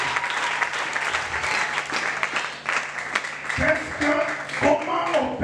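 A church congregation at a French-language worship service claps and cheers, dense, continuous applause with scattered shouts, loud and close, with a voice speaking over part of it.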